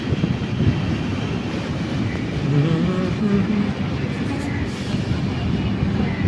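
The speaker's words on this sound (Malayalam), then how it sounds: "സ്റ്റേഷനിൽ നേത്രാവതി എക്സ്പ്രസ് ആണ് ഈ കയറി വരുന്നത്" The Netravati Express rumbles into a station in a steady, loud low roar of wheels and carriages, with crowd noise and faint voices mixed in throughout.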